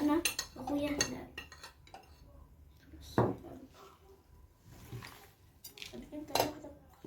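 Metal clinks and scrapes of a spoon against a cooking pot while stuffed vegetables (mahshi) are prepared in a home kitchen, coming in scattered bursts with quieter gaps and a voice speaking now and then.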